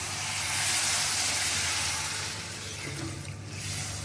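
Hot water poured into a pan of jackfruit curry cooking with spices hisses and steams, a steady broad rush of sound that eases slightly toward the end.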